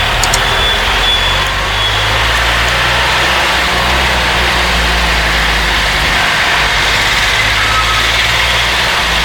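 A car engine running steadily in second gear while driving on a busy city road, loud and close with a constant low drone and no talk.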